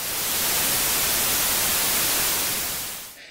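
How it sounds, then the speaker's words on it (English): Random values played back as white noise produce a loud, steady broadband hiss that holds even for about three seconds, then fades out quickly at the end, with no voices. "this is what white noise or random values sounds like"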